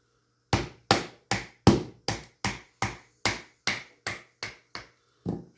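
A BPS Nighthawk Adventurer knife with a 5Cr14MoV blade chops wood into small pieces: about a dozen sharp, loud, evenly spaced strikes, each decaying quickly, with nothing else heard.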